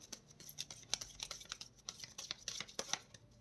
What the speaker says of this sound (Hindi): This is my last shuffle, angels.